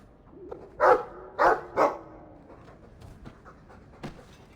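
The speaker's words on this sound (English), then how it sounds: "Well, woof to you too." A dog in the video game Dragon Age 2 barks three times in quick succession, close and loud, followed by softer panting and a final short yip.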